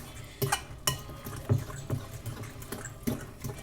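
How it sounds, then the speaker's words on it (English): A whisk works milk and butter into mashed potatoes in a pot, giving irregular soft clinks, taps and wet stirring sounds up close, with no talking. "you can use a whisk if you want to whisk in your milk and your butter"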